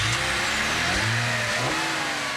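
An engine revs and pulls hard under acceleration, close and steady, with the pitch rising in sweeps over roughly two and a half seconds and no voices.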